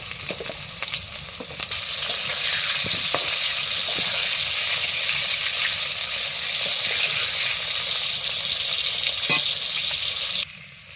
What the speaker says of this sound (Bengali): আলু কটা ভেজে নিই।